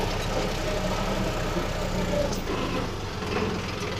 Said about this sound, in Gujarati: આ ટ્રેક્ટર ઉતરે છે.